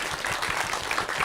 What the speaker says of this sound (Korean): 여기 참석한 다른 여타분들이 큰 박수로 위로 박수를